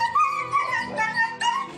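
A stray dog tangled in a shop awning in San Felipe, Chile, lets out repeated high pained whimpers and yelps in close, wavering bursts, with no talk over it.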